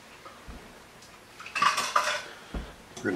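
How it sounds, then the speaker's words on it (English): Spoon stirring heavy cream into a simmering pot of acorn squash soup, giving soft scraping and clinking against the pot that swell midway and return in short bursts, with no talking. "We're going to stir this in."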